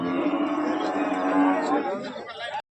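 A cow at a rural village cattle market lows in one long, loud moo lasting over two seconds, with crowd chatter in the background.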